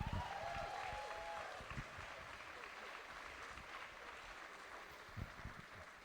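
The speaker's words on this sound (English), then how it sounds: "And another applause for Cynthia Kop" An indoor audience at a fencing tournament medal ceremony claps in a soft, sustained round of applause, heard faint and distant through a hall.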